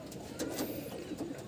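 A male pigeon of the green Gola type, a tournament flier, coos softly while held in the hand, giving a few low rounded pulses close by.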